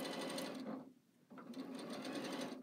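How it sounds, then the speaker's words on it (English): A domestic sewing machine stitching a small quilt block of fabric, whirring in fast steady bursts with a brief pause midway, loud and close. "But I'm not really used to this sewing machine."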